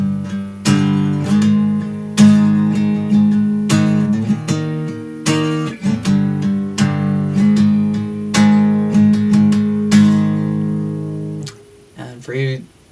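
An electric guitar plays an intro riff with power chords, a loud series of struck chords and ringing notes that repeat in a steady pattern before trailing off.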